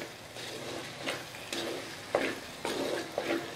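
Mango thokku with powdered jaggery is stirred in a clay pot, a steady scraping and sloshing with soft sizzling and a few sharper clinks of the spoon against the pot.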